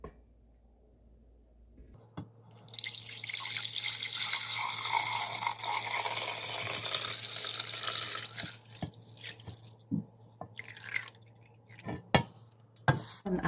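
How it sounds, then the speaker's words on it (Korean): Clear water poured off settled sediment while making sun-dried chili gochujang, a steady splashing pour lasting several seconds that tapers into scattered drips and light clinks. "앙금은 놔두고 맑은 물만 따릅니다"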